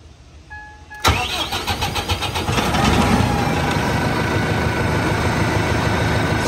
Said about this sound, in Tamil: சிஆர்டி இன்ஜின்னாலே பார்த்தீங்கன்னா கொஞ்சம் நேரம் டிலே ஆகி தான் ஸ்டார்ட் ஆகிற மாதிரி இருக்கும்.